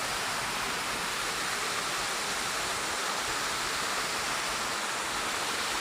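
A constant, dense hiss of falling water roars evenly throughout from a waterfall close by on the Wallibou River near La Soufrière, St Vincent, with no voices.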